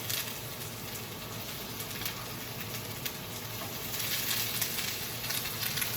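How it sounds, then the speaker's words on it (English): Onions frying in olive oil in a home kitchen, a steady soft sizzle and crackle that continues evenly throughout with no talking. "I'm also working on the onions over here. I threw some olive oil in there"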